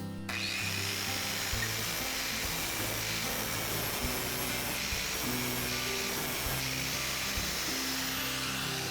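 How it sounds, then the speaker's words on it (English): An angle grinder held at the bevel angle sharpens a lawn mower blade, giving a steady, loud, continuous grinding whine throughout with no pauses and no talk. "I'll set the grinder against the blade and try to match the bevel angle."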